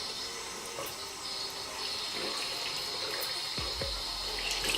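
A tap runs steadily into a sink while a soapy makeup brush is rinsed under the stream, a close, even splashing wash with a few brief knocks near the end, no talking.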